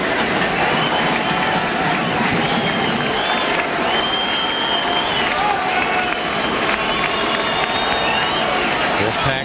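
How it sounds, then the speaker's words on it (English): Nevada Wolfpack crowd at a 2005 college football game against Hawaii makes a dense, sustained roar with cheering, clapping and whistles, loud and continuous throughout. "Wolfpack crowd trying to make a little noise"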